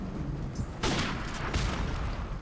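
Gunfire in Call of Duty: Modern Warfare Remastered, with two sharp sniper rifle cracks and their echoing tails standing out over a busy, noisy game background.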